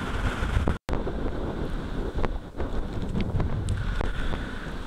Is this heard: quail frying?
no